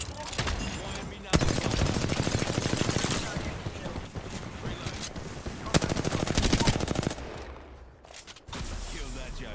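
Rapid bursts of automatic gunfire and single shots sound in a video game during a team firefight, dense and loud, with short gaps and in-game voice callouts mixed in.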